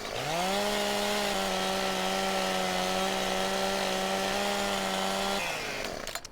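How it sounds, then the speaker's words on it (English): A chainsaw trimming wood runs at a steady, loud, sustained buzz for several seconds, then cuts off abruptly near the end, followed by brief clatter. "let's get out the old chainsaw and we'll trim these down and get them on the truck"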